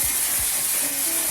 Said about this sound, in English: I like to spray my hair a little bit, and I'm spraying it with the Eben